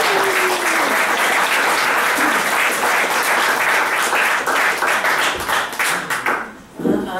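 An audience at a memorial gathering breaks into loud, steady applause that thins into scattered claps and fades out near the end.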